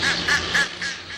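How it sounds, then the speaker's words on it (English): Ducks quack repeatedly in a flooded parking lot in New Orleans after a storm, with three or four close, loud calls in quick rhythmic succession. "ducks make their home in a flooded parking lot"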